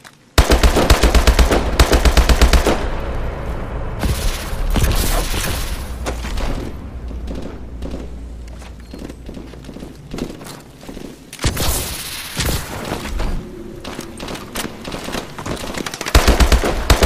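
Sustained automatic gunfire from a Call of Duty Advanced Warfare mission roars at close range, with rapid bursts, heavy thumps and brief pauses, loud throughout with no talk over it.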